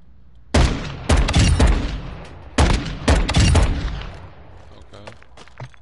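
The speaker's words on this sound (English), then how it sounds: "I'm gonna test out the new pistols." New pistols fired in a video game, clustered bursts of rapid shots in two loud volleys close to the listener, with a speaker's voice mixed in and a fading tail.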